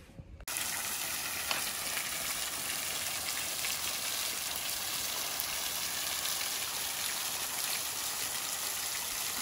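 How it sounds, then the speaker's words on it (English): A waterfall flows in a continuous, even rushing hiss that starts abruptly after a brief quiet moment and holds steady throughout, fairly close and without speech. "Nice waterfall."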